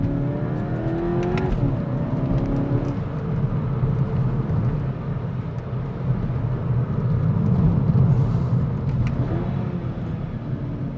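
A Skoda Octavia vRS or Mk6 Golf GTI with a DSG gearbox is driven through bends, its engine droning steadily from inside the cabin, rising in pitch then dropping at quick paddle-shifted gear changes.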